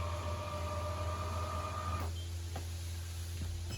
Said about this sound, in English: pushing the switch up turns on the motor. Hold the switch down, you're going to see all those blinds starting to make their way down